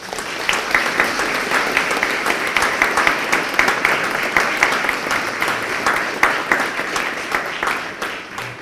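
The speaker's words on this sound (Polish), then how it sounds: "Oklaski." Sustained audience applause fills a hall during an academic inaugural address, steady and dense clapping holding at an even level throughout without any speech over it.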